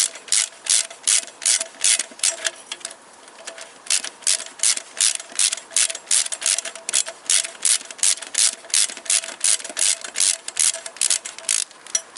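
A hand ratchet loosens a nut on a Toyota Corolla VVT-i engine, clicking in rapid rhythmic strokes with brief pauses, loud and close with no talking.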